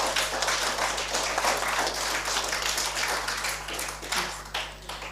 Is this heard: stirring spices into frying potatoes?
no